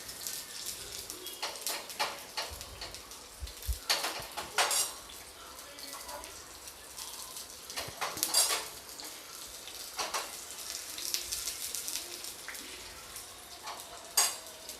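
Ingredients lightly roasting in a pan on a gas stove while making medu vada and coconut chutney, with frequent utensil scrapes, stirring and clatter over a steady sizzle.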